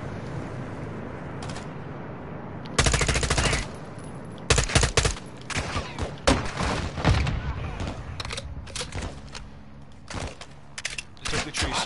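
Enemy gunfire in Call of Duty: Modern Warfare II (2022) campaign crackles in sharp, loud automatic bursts and single shots at irregular intervals, with booming impacts and someone talking between the volleys.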